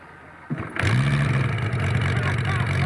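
A Moki 250cc radial engine on a quarter-scale CARF Models P-47 Thunderbolt RC plane catches after a brief cranking sound and settles into a loud, steady running drone close by.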